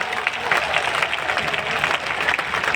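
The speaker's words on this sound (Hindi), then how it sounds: "जोर से ताली बजाइए गौतम साहब के लिए सब लोग" A crowd claps steadily at a political rally, a continuous dense patter of many hands from a large gathering, fairly loud and uniform throughout with little speech.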